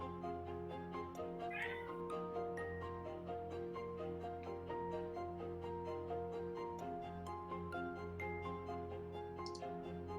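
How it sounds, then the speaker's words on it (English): A cat meows and howls in the background under a steady, dense bed of music with ticking, the cries rising briefly above the mix without any talk. "There's a meow in the background."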